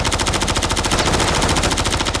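Sustained fully automatic AK rifle fire in Call of Duty Warzone, a loud, dense, rapid stream of shots filling the whole stretch without a break.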